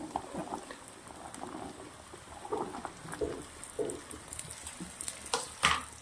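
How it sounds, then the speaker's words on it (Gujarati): Okra going into hot oil with onions and green chillies for a Bihari-style bhindi dish, giving a soft, uneven sizzle with scattered stirring clicks and scrapes, fairly quiet and close, with no talking. "ત્રણ થી 4 મિનિટ સુધી પહેલાં આને પાકવા દેશું તેલના અંદર સંતળાવા દેવા"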